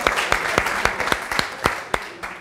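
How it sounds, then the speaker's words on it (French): An audience applauds at a pre-game event for an NBA Wolves versus Warriors game. The sharp claps are fairly sparse and close, spread over a couple of seconds. "Ok, on applaudit."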